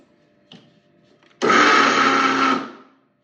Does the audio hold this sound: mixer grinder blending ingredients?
yes